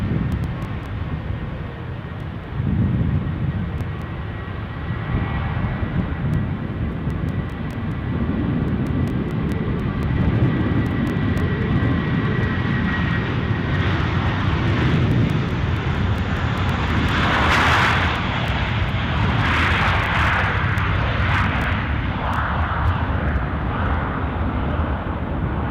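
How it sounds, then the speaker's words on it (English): Jet engines of an Airbus A321 spool up for takeoff at Edinburgh Airport, a broad rushing roar that builds and stays loud throughout, with a gust-like surge partway through and no talk. "Sounds like our A321 is spooling up for..."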